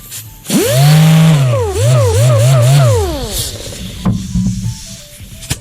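A mud hog polisher used for stripping auto paint spins up loudly with a rising, warbling motor whine, surging up and down several times before winding down, followed by brief clattering handling sounds.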